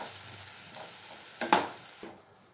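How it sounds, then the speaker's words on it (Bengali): Vegetables frying in oil with sour yogurt in a pan for Bengali mushroom posto, a soft continuous sizzle broken by a couple of sharp stirring scrapes near the end, close up with no talking. "এটা দিয়ে একটুখানি নাড়াচাড়া করে নেবো, তারপর সমস্ত সবজিগুলো দিয়ে দেবো।"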